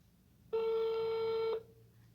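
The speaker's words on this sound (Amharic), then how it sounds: "ስልኩ ይጠራን ብዬ ተስፋለኝ። እየጠራ ነው" A single ringback tone on an outgoing phone call to Ethiopia, one steady electronic burst lasting about a second against a quiet background.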